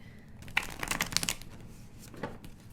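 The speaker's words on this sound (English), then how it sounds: "This deck is really big, you guys. I'm sorry it's hard for me to shuffle." A large deck of tarot cards is shuffled with a quick flurry of soft riffling and slapping, followed by a couple of fainter card taps, close and quiet.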